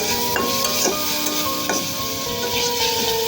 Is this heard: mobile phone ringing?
no